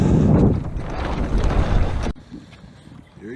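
A homemade sailing rowboat moves off under sail, water washing and rushing loudly against the hull with wind buffeting the microphone, then dropping to a quieter lapping after about two seconds.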